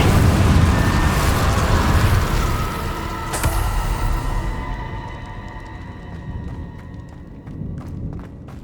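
The Incendio fire spell goes off in Hogwarts Legacy, a loud, roaring, explosive burst with a sharp crack midway that fades into a lingering rumble and a quieter magical hum.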